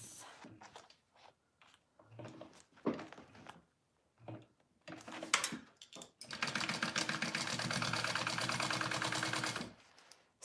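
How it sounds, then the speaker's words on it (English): A sewing machine stitches a bag lining with a zipper sandwiched between, using a quarter-inch seam allowance, running in short bursts and then a long steady whir at close range, with a few brief pauses and handling noises. "you want to sew that on 1/4 inch seam allowance"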